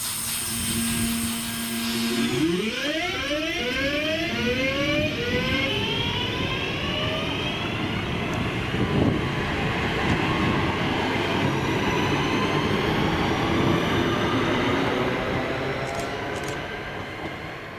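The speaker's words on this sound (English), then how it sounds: "the 1348 West Midlands Railway service to Lichfield on Trent with 323219 and" A West Midlands Railway Class 323 electric passenger train, units 323219 and 323215, passes at Bromsgrove. The approach starts with a rising whine, then a long, loud rumble and rattle of wheels runs steadily throughout with no talk.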